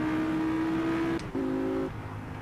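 A car lapping a track in a video game drones with a steady engine tone that holds, breaks off briefly, then returns at a slightly different pitch before easing away.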